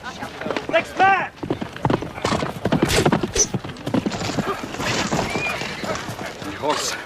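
A horse whinnies and its hooves clip-clop at a run amid a dramatic medieval village scene, with people talking and shouting over the hoofbeats.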